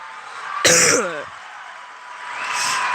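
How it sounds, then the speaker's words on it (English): A single harsh cough, close and fairly loud, rising out of a quiet background and fading within about half a second. "I was already into my cough"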